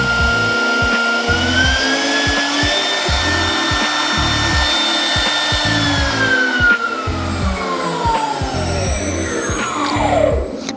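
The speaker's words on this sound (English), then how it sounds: "With the spindle on, pressing Shift and squiggly line plus will increase the spindle RPM." A CNC router spindle on an NK105 G3 controller whines loudly and steadily close by, its tone stepping up in pitch as the RPM is raised, then sliding back down near the end, with a rough mechanical hum beneath.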